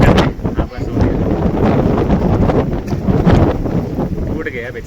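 Strong wind gusting during rain, with heavy rumbling buffeting across the microphone, loud and close and continuous, while a person talks underneath.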